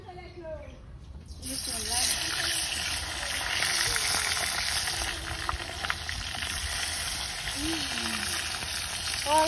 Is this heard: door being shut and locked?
no